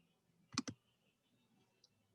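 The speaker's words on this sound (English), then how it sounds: "Now I'm clicking all kinds of buttons erroneously" Computer mouse buttons clicked during a math lesson on equilibrium, two quick sharp clicks close together, then a few fainter taps, crisp and near in an otherwise quiet room.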